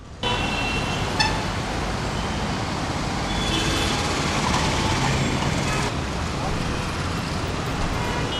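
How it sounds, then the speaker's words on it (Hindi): Fast truck and other traffic racing along an Indian road, a steady loud roadway roar with a brief horn toot near the start and a rising swell of passing engine noise midway, with voices over it. "ये ट्रक देख कितनी तेज जा रहा है"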